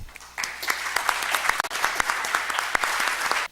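Audience applause at an international arbitration congress, a steady burst of dense clapping from a seated crowd that starts abruptly, holds evenly for about three seconds, then cuts off.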